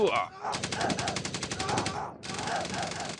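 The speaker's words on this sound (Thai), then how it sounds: "ยิงประทะกันเกิดขึ้น" Gunfire exchange in a mobile World War game: rapid machine-gun bursts rattle steadily, pause briefly, then resume, with a voice talking underneath.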